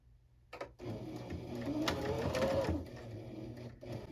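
A sewing machine stitches the casing of a dress, one short whirring run of the motor lasting about two seconds, preceded by a soft click and followed by quiet handling noises.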